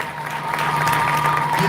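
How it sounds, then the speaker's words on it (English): Worshippers in a church give a big round of clapping, a dense steady applause that swells slightly and stays loud to the end, with only faint crowd murmur beneath. "Give me a big clap to Mama who just bring us here."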